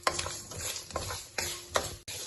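Turmeric powder and asafoetida stirred in a hot pan off the flame while making lemon rice, with close, uneven scraping strokes of the spoon coming in quick bursts.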